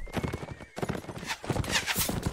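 Horse hooves clip-clop in the video game Mount & Blade: Warband, a brisk rapid gallop with occasional neighs and a busy battle din around it.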